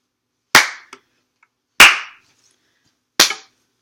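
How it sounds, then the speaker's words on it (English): Three sharp, loud hand claps sound alone and well spaced, about a second and a quarter apart, keeping a steady beat before a children's song is sung, each with a brief ring-off in a quiet room. "I'm going to begin by clapping"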